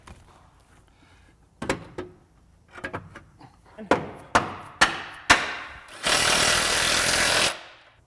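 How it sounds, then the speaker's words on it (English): Metal hammer taps seat a lower control arm on the driver's side of a 1992-2000 Chevy Blazer/Tahoe or 1988-1998 truck, several sharp separate blows followed by a louder sustained grinding burst near the end. "we'll go ahead and tap this one into place"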